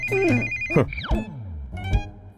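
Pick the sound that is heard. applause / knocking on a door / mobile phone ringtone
mobile phone ringtone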